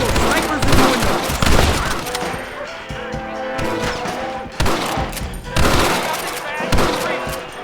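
Gunfire in the Western video game Red Dead Redemption: rapid overlapping shots and bursts crack through a busy shootout, loud and close, with voices shouting under the fire.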